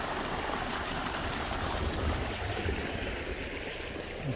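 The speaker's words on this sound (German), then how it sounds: "Ein kleiner Bach." A small stream flows through a village landscape in the Emmental, giving a steady, fairly faint broadband rush with no other sounds.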